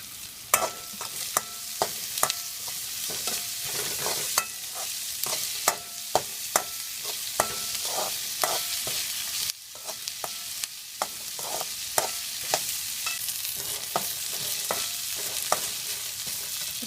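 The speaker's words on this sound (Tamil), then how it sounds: "இப்போது இஞ்சி பூண்டு பேஸ்ட்டை போட்டுக்கலாம்" Crushed ginger and garlic fry in a pan for a chicken liver kulambu, a constant hiss of oil under repeated sharp clacks and scrapes of a ladle stirring against the pan bottom.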